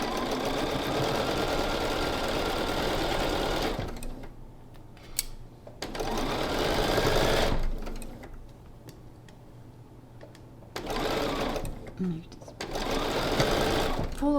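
A sewing machine stitching quarter-inch quilt seams: close, steady mechanical whirring and ticking in several long runs separated by pauses, with someone talking over parts of it.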